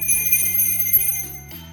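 Small bells jingle continuously with a bright, shimmering ring, close and fairly loud over soft background music in a kindergarten music class.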